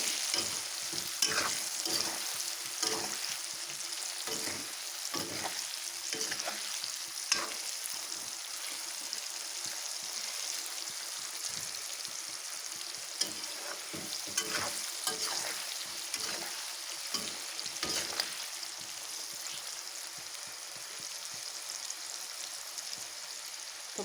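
Turmeric, chilli powder and salt being stirred together for a sweet, sour and spicy mango pickle, a steady dry scraping and rustling with irregular clicks of the spoon against the bowl, close and continuous with no talk.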